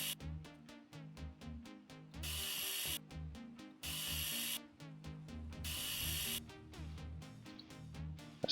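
An angle grinder cuts away car grille assembly parts in a garage. Loud, harsh grinding comes in several sustained bursts, with whirring and clattering tool noise between them.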